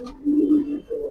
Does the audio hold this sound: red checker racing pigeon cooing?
yes